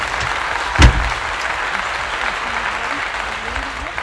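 A crowd claps a round of applause for a passenger boarding a road-trip van, a short burst of clapping heard under road and engine noise inside the vehicle.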